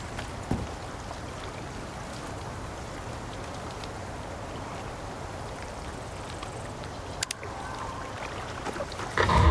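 Water flows in the video game Icarus as a steady, close hiss of running water that continues evenly, broken only by a few brief clicks near the end.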